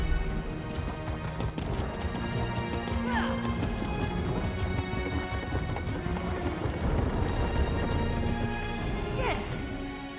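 A horse gallops in The Elder Scrolls Online, with steady rapid hoofbeats clattering close and loud throughout and a brief whinny-like cry partway through.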